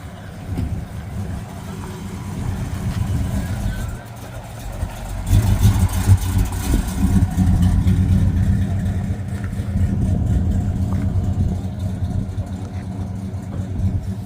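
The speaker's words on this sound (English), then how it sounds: "GTO coming our way" A Pontiac GTO's engine idles and revs at an outdoor car show in Port Washington, New York, a steady mid-pitched rumble that swells louder midway, with crowd chatter and talk around it.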